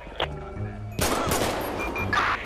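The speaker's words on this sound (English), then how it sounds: "Shots fired, shots fired." Gunfire in the video game GTA V during a police encounter, a sharp burst of shots followed by a loud, dense rattle of rapid fire, close and heavy, with a brief voice before it.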